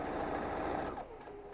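A sewing machine runs steadily as fabric is stitched around the edge of a drawstring-bag toy play mat, a fast, even mechanical rattle close by that slows and eases off near the end.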